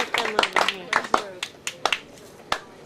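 Scattered clapping from an audience at an award night, heard as sparse, uneven claps of a few hands over a couple of seconds, with voices talking over them.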